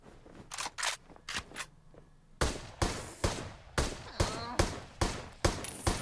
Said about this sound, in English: these arcane characters don't like to miss or stop shooting